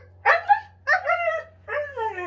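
A dog named Atlas gives three short, high barks close up, evenly spaced with a whiny, yelping edge over a low steady hum.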